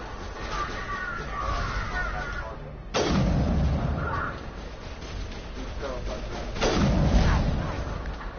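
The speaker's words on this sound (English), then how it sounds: "Fucking love this sniper rifle." Sniper rifle fire in the Warzone video game: two loud, sharp shots about four seconds apart, each with a booming tail, over steady game ambience and some background voice.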